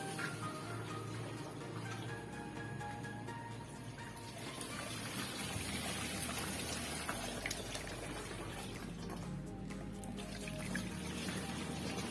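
Water is poured from a bucket into the tank of an Iwata JET-M20 air cooler, making a continuous, quiet splashing and trickling sound for about twelve seconds. No one speaks.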